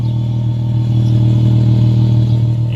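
A car's V6 engine idles through an aftermarket exhaust with mufflers and matte black tips, a loud, steady low burble with a deep droning rumble held evenly throughout, no talking.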